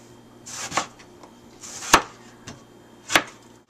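A knife chopping a salad tomato on a cutting board, three or four separate knocks spaced unevenly, close and clear, with faint soft rustles between the cuts.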